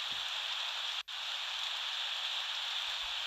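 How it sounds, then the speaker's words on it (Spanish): Rain falling steadily with a constant close fizzing patter, broken by a single brief dropout early on. "Está lloviendo y..."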